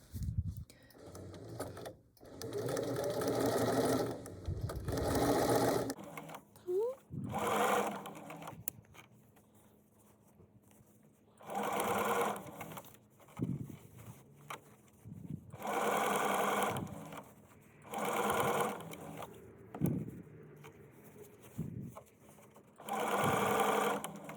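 A sewing machine stitches a drawstring backpack lining in close, loud bursts of rapid whirring and chattering, stopping and starting several times with short quiet gaps between runs.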